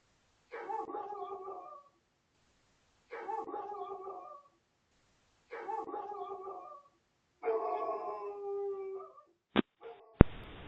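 A backyard dog at night in Sacramento, California, gives three long drawn-out howls in a row with short gaps between them, then a final howl and a few sharp barks. The sound is fairly close and clear against a quiet night.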